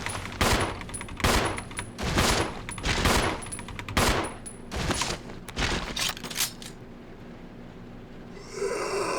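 Gunshots in the survival horror game Resident Evil 0, about a dozen sharp, loud blasts in an uneven series with short gaps, fading to quiet ambience before a soft swell at the end.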